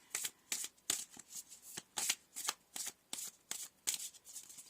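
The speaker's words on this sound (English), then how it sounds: "I'm going to shuffle this" Tarot cards are shuffled by hand nearby in a quick, steady rhythm of about a dozen crisp riffling bursts, each a short papery flutter, faint and alone with no talking.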